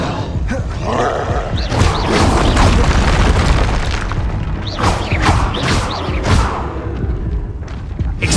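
Expelliarmus spell blasts in the video game Hogwarts Legacy, a dense run of booming impacts, thuds and crackling bursts, loud and continuous with several sharp hits close together.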